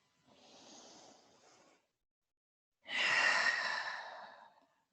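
A slow, deep breath during a calm yoga session: a soft, airy inhale through the nose, a short pause, then a louder, fuller sighing exhale, close and quiet with no talking.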